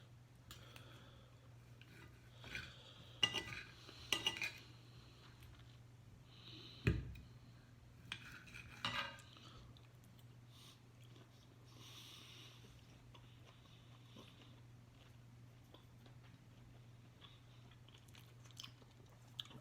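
A piece of seasoned steak is cut and eaten, with quiet chewing, scattered clinks of cutlery on a plate and a sniff over a faint steady hum.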